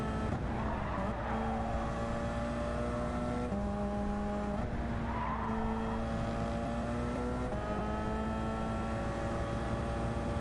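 Porsche race car in Gran Turismo 7 held at full throttle, a loud, steady engine drone with rising and shifting harmonic pitch through gear changes, continuous with no talk.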